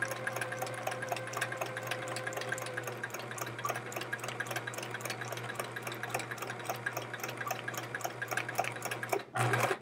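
A sewing machine set to zero stitch length hammers up and down in one spot while piecing scrap fabric for a chevron quilt, a fast, even, close mechanical rattle with a steady hum that runs nonstop and stops abruptly near the end.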